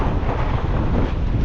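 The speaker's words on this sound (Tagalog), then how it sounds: "Lakas ng hangin dito sa site." Strong wind at a work site roars and buffets the microphone in a continuous, loud broadband rush.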